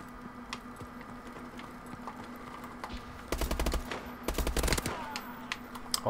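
Automatic gunfire in the shooter game Call of Duty: Advanced Warfare, two sustained bursts of rapid rounds over a low background hum with scattered faint clicks.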